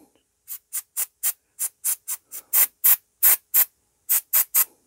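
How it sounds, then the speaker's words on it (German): A nearly empty can of cutting oil spray is spritzed onto metal before a thread is tapped. About sixteen short, crisp hissing puffs come in a quick, uneven rhythm, close and fairly loud. "Ich habe jetzt hier noch in der Garage Schneidölspray gefunden. Werde also das hier leicht befeuchten."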